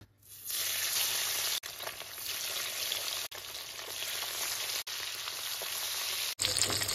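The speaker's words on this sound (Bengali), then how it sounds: "এবার হলুদ লবণ মাখানো মাছগুলো এক এক করে ভেজে নেব।" Pabda fish, coated in turmeric and salt, sizzles loudly and steadily in hot refined oil, a dense continuous frying hiss with a few brief cuts, no voices.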